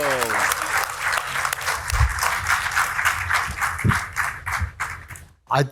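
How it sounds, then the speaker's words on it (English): Loud applause and clapping from a press conference audience greeting heavyweight boxer Alexander Usyk, a dense steady patter of hands with a few sharper claps and some voices mixed in, dropping out briefly near the end. "Give him a loud applause"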